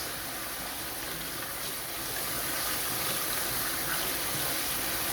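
Tap water runs steadily while vegetables are washed in a rural Filipino kitchen, a continuous splashing gush that stays even and close throughout.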